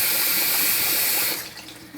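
Kitchen tap running with a strong, steady gush of water, close and loud, which drops off sharply about two-thirds of the way through as the flow is shut or reduced, leaving a quieter trickle.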